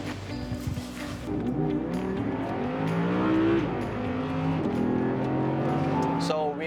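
An Audi race car runs a hot lap of the Sepang circuit in the Asian Le Mans Series, its engine rising and falling through gear changes in loud onboard drone, with a voice talking over it.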